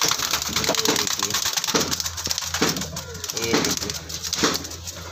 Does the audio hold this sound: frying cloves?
no